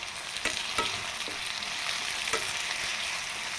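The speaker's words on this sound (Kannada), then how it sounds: "ಸಾಲ್ಟನ್ನ ಹಾಕಿ ಸ್ವಲ್ಪ ಫ್ರೈ ಮಾಡಿ" Tomatoes with salt frying in a pan while cooking avalakki (poha). A quiet, continuous sizzle carries a few soft stirring scrapes and taps.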